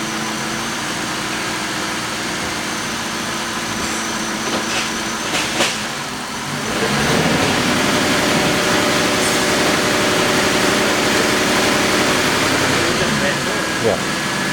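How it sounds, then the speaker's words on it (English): Car engine held under load during brake torquing on a good ignition coil, a steady loud drone that rises and thickens midway and then holds, with a faint voice over it. "And I'm going to brake torque this one."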